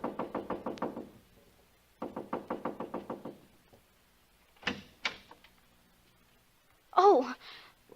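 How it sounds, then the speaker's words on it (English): Two bursts of rapid knocking on a door, each a quick run of about eight raps, followed later by a few louder thumps and a brief voice. "So I just kept knocking and knocking."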